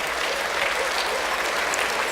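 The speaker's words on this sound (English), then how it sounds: "How about a round of applause for Zanele?" An audience at a speech event applauds steadily, a dense, even wash of clapping from many hands throughout the short stretch.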